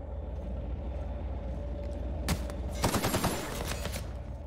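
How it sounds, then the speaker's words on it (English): Assault rifle fire in The Outer Worlds video game: a few rapid bursts of gunshots in the middle and later part, set over a steady low rumble of game ambience, with no talking. "Assault rifle is pretty good."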